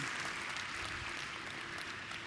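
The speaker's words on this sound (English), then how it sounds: "I think that deserves a round of applause" A conference audience gives a short burst of applause, a dense, steady wash of clapping from a crowd, fairly distant and even throughout.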